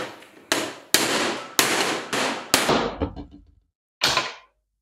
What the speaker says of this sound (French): En tapant bien à plat sur le cordon que ça marque pas la tôle